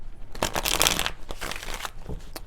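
Tarot cards are shuffled by hand in a few quick riffling bursts, crisp papery flutters close to the microphone with brief pauses between them.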